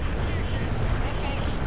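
Explosions in the real-time strategy game World in Conflict roar as a continuous dense, heavy rumble of blasts and booms, loud and unbroken throughout, with a voice faintly mixed in.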